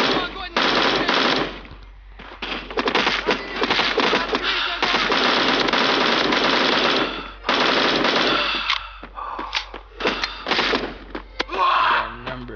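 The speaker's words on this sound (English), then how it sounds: "Come on, go ahead and shoot him." Rapid automatic gunfire from an Android first-person shooter game, dense bursts of rattling shots with brief pauses, loud and close, with occasional faint voice underneath.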